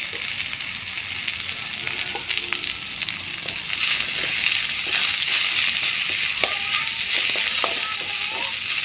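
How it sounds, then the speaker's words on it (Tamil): Shredded cabbage sautéing in hot oil in a pan for cabbage chutney, a steady broadband sizzle with occasional stirring scrapes and clinks, growing slightly louder partway through, no voices. "நல்லா வதங்கிட்டு இருக்கு."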